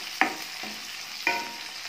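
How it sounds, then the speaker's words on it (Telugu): Chopped onion pieces sizzle in hot oil with tempering seeds, softly and steadily, while two sharp scraping stirs of a spoon against the pan stand out close by. "ఆనియన్స్ ముక్కలు వేసుకోవాలి"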